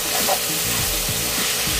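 Bacon fries in a pan for a carbonara, giving a loud, dense, close sizzle that stays steady through the whole moment.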